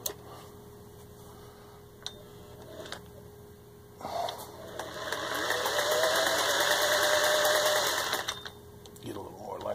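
Vintage 1955 Singer 403A sewing machine sewing a zigzag cam pattern on cut pants fabric, running in a steady whirring burst of several seconds after quieter handling clicks.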